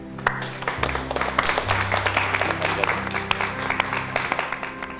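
Office staff applaud a new employee with light, scattered clapping, the sharp individual claps standing over a sustained musical tone and low hum.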